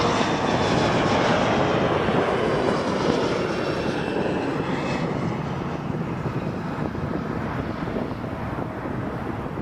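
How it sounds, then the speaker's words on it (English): A Dassault Falcon 7X jet on approach to land at Toronto Pearson Airport gives a broad, steady engine roar that stays loud and continuous throughout, slowly easing slightly with light wind noise and no talk. "Dassault Falcon inbound,"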